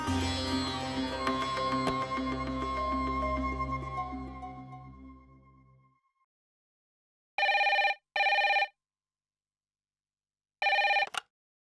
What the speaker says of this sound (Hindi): थैंक गॉड पायल जी, आपने फोन उठा लिया